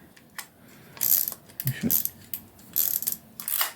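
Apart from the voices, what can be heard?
Zenit 11 camera cloth shutter firing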